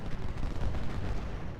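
Dense Civil War battle sounds in Ultimate General: Civil War at Gettysburg, with rumbling artillery and gunfire blending into a continuous low roar that stays loud for the whole short stretch.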